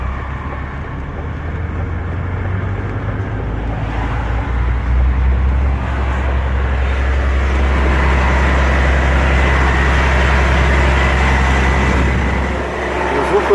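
A truck's diesel engine held at raised revs after a diesel leak onto the motor, a loud steady low drone with a rough, odd-sounding undertone, heard from close by throughout.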